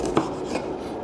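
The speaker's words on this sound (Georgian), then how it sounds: "აი ესეთ ზომაზე დავჭრათ ნიორი რა" A knife chopping garlic for a quail egg recipe, two quick close cuts against a board in a brief, quiet moment without speech.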